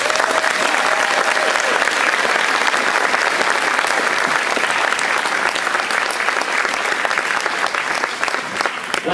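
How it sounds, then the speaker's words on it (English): A school auditorium crowd at a spring high school band concert gives a loud, sustained round of applause lasting about nine seconds, dense and steady from start to end. "So I really want everybody to give them another round of applause."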